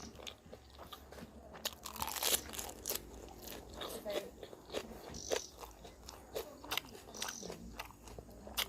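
Crispy bacon is bitten and chewed right at the mouth, producing close, irregular crunches and crackles that repeat steadily over several seconds with soft mouth sounds between them.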